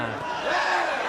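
A crowd, including many foreign fans, cheers at a Muay Thai fight between Patomsuk Pathompothong and Jacob Hutter, in a short, loud burst of massed shouting.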